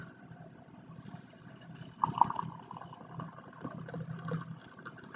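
Hot water poured from a kettle onto loose herbal tea in a cup, a soft steady splashing fill lasting several seconds with no talking.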